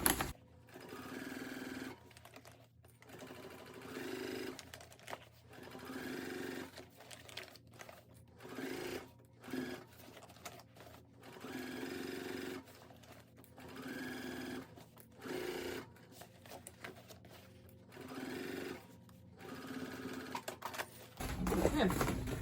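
A sewing machine stitches the seam of a wide tote bag in repeated short bursts with brief stops between runs, close and clear, with faint handling noise.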